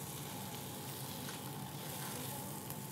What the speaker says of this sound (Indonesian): Ditumis sebentar.